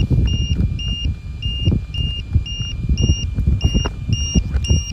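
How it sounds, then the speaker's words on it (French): A LiPo battery low-voltage buzzer inside an RC car, a Hammer Rey 4S with a 1650kv 4268 motor, beeps in a steady repeating pattern of short high double tones over loud rumbling wind and engine-like noise outdoors. "c'est juste le lipo-buzzer qui a là-dedans qui bip"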